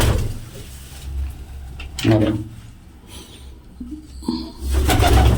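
Pigeons in a rooftop loft give soft, intermittent coos, mixed with voices talking and a brief rattle, all fairly close.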